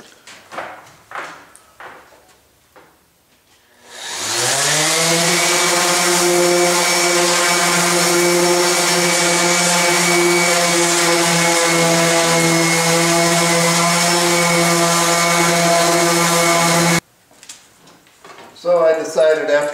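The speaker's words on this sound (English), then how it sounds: "So now we're just going to sand them all up" A power sander running steadily on wooden parts for a child's kitchen stool, a loud continuous whine lasting about thirteen seconds, with brief handling knocks before and after.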